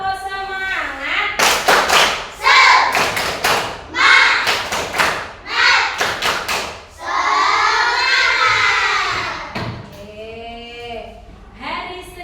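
A school class of children performs a rhythmic clapping cheer, with sharp hand-clap bursts in a steady pattern alongside group shouting and chanting voices, loud and close in a classroom.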